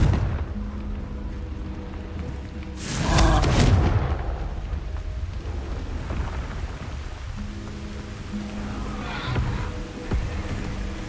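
A Confringo fire spell in Hogwarts Legacy bursts as a single loud, broadband blast lasting about a second, followed by a softer rumble amid a steady ambient hum.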